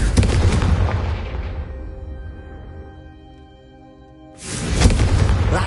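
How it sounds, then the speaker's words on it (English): A Confringo fire spell cast in Hogwarts Legacy: a loud booming explosive burst that fades slowly over a few seconds, then a second heavy blast bursts in near the end. "a Confringo cast travels a bit farther than that of a spell like Incendio"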